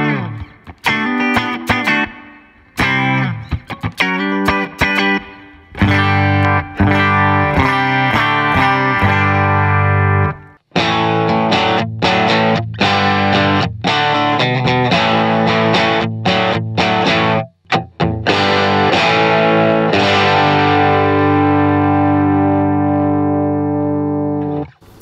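Distorted electric guitar played through a Line 6 Helix Native plug-in factory preset, loud and continuous with sustained chords and riffs, short gaps and pick attacks, and rich effects-laden tone throughout with no talking.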